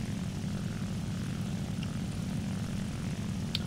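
Fw 190 A-1 fighter engine in a flight video game, a steady low propeller drone held at even loudness while diving, with a faint brief click or two on top.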